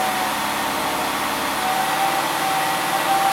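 A Ford Escape engine revs slowly and steadily up toward about 3,000 RPM, a close, continuous mechanical hum with a faint whine running alone through the whole stretch.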